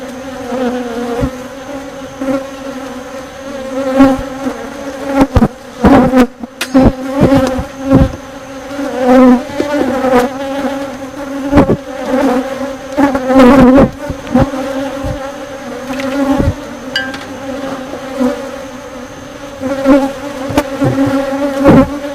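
Honeybees swarm around an opened hive during a July inspection, a dense, steady buzzing drone close by that swells and dips continuously, with occasional soft knocks from handling the frames.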